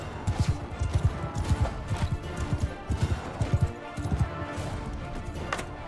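A horse galloping in the video game Mount and Blade Bannerlord during a battle rush, with rapid, rhythmic hoof clops up close amid combat noise.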